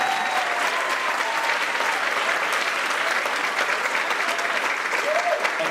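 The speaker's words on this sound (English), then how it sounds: "How about a round of applause for all our announcers today?" Audience at a third grade choral concert claps steadily, a dense, even wash of applause from a full room that holds at the same level throughout.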